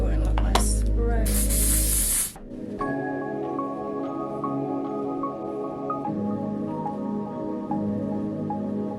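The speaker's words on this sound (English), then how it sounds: "Gonna go in with my spray." Hair spray misted from a can onto a lace frontal wig, one loud hissing burst lasting about a second, followed by quieter handling sounds and faint background tones.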